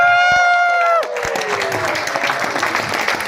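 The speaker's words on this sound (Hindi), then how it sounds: "जोरदार ताली प्रसन्नजीत सर के लिए, जोरदार" Audience applause for speaker Prasanjit Singha at a CDD workshop in Gaya, Bihar: a dense, steady clatter of many hands clapping that swells in after a sustained tone fades and carries on for several seconds.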